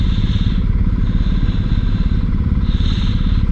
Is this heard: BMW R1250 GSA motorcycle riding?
yes